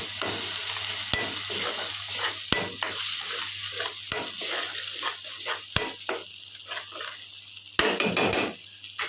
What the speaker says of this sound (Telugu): ఈ మిశ్రమం ఇందులో పోసేయాలి. పోసేసి ఇది బాగా కలపాలి.